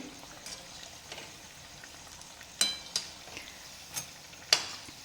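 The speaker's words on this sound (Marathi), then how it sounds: "अजून एक अर्धा मिनिट परत तळून घेऊया वडे" Large potato vadas (batata vada) deep-frying in hot oil, a soft steady sizzle broken by a few sharp clinks of a metal utensil against the pan, quiet and close with no talking.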